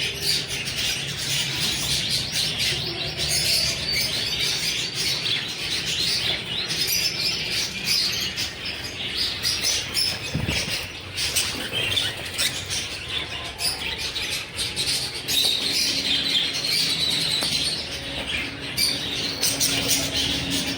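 Java sparrows and other caged birds at a busy animal and bird market in Mosul, with dense, continuous chirping and squawking throughout over a steady crowd-like background.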